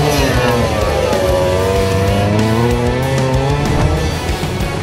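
A Lancia 037 rally car on a rally stage accelerates hard, its loud engine note climbing through rising revs and gear changes close by.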